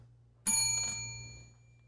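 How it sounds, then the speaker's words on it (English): A single bright bell strike rings out cleanly and lingers with a slowly fading metallic tone, close and isolated over a low steady hum. "Ring the motherfucking bell."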